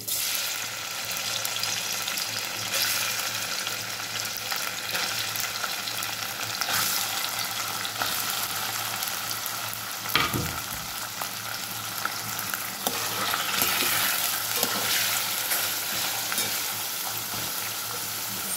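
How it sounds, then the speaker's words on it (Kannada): Cubes of paneer fry in about four tablespoons of oil in a pan over a medium flame, giving a steady, close, continuous sizzle with scraping stirring sounds running throughout and no talk. "ಈಚೆ ಒಂದು ಬಾಣಲೆಗೆ ಸುಮಾರು 4 ಟೇಬಲ್ ಸ್ಪೂನ್ ಎಣ್ಣೆ ಹಾಕಿದ್ದೇನೆ. ಹಾಕಿ ಇದರಲ್ಲಿ ಪನ್ನೀರನ್ನ"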